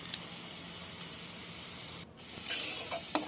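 Murali dough pieces frying in hot oil: a steady, soft sizzling hiss close by, with a brief dip midway and slightly livelier crackling bubbles toward the end, with no talk.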